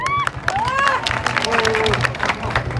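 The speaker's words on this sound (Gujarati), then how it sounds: "ભાઈ, આ ભાઈઓ માટે જોરદાર દિલથી તાળી થઈ જાય." A crowd in Botad claps and cheers for the brothers working there, with rapid scattered hand claps and a few whistles and voices mixed in over a short burst.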